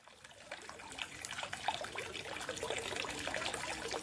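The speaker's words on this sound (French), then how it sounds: "Voilà une fontaine." Water from a fountain trickles and splashes continuously at a soft, even level, with no voices over the steady wash.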